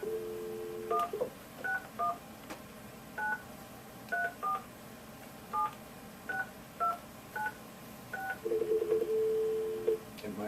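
A telephone keypad sounds a string of separate dialing tones, about a dozen short beeps in an irregular rhythm, then one longer tone at the end, faint and heard over quiet room noise.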